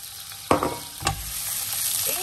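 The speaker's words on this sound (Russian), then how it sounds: "начинаю тоже его обжаривать до такого полуготового состояния" Cucumber sizzles and crackles frying in hot vegetable oil, with a couple of sharp utensil knocks against the pan, close up.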